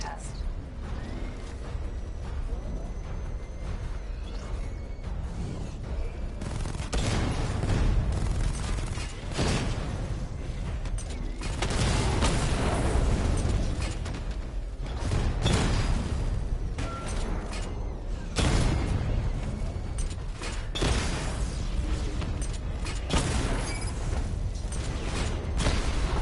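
Missile barrage firing and explosions in a video game, loud repeated bursts and booms surging and fading in waves across the whole stretch, with a dense, sustained rumble underneath and speech mixed in.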